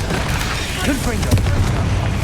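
Confringo fire spell blasting in Hogwarts Legacy, a dense continuous roar of explosive booms and crackle during a magic combat scene, loud and close with no clear pauses.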